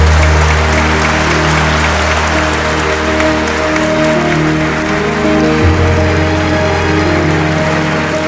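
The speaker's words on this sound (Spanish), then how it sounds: "Les damos un fuerte aplauso." Wedding guests at a destination wedding in Zacatecas, Mexico break into sustained, loud applause right after the couple is pronounced married, with steady music playing underneath throughout.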